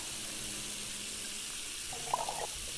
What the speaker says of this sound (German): Ich mache mich voll nervös, wenn der Wasser anläuft.